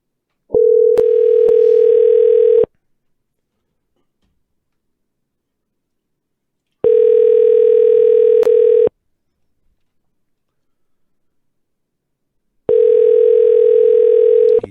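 Three long telephone ring tones on an outgoing call, evenly spaced with silent pauses between, loud and clear with no talking.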